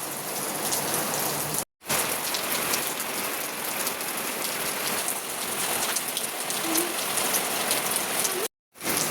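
Heavy rain pours steadily and densely onto surfaces close by, a constant hiss broken by two brief silent gaps.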